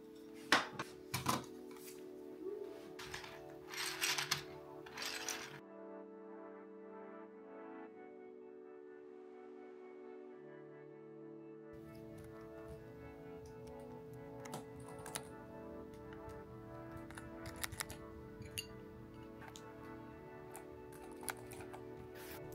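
A mechanical keyboard is put back together and tested. Scattered light clicks and taps play under steady background music.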